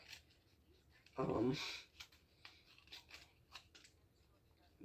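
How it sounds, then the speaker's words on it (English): A pair of cheap dollar store scissors snips through paper in one crisp, close cut, followed by faint handling rustles and soft clicks. "Also, I am using dollar store scissors,"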